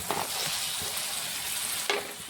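Fried watermelon pieces are stirred into a hot pan, giving a soft, steady sizzle with a couple of brief scraping stirs near the start and end.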